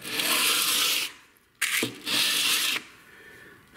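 Knife edge drawn across a coarse 150 grit sharpening stone: two long, loud gritty scraping strokes separated by brief pauses, with a short scrape between them and no voices.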